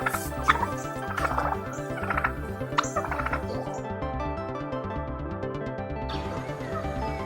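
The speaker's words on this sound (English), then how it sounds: "Turkey is a large bird, native to North America." A turkey gobbles in a rapid, rattling series of bursts over a musical background, the calls repeating through the first few seconds before fading into the music alone.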